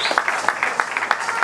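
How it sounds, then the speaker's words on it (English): Applause from a crowd at an outdoor Marcus Garvey tribute event, honouring a performer: rhythmic, fairly loud clapping with regular sharp hand claps in a steady beat, continuing without pause. "Another round of applause for the Royal African soldier, please."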